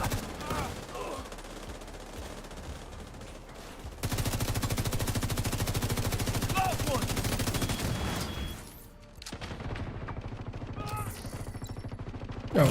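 Rapid sustained gunfire from The Division, automatic bursts rattling on in dense volleys with a short lull, while game voice lines and a player's brief remarks come through underneath.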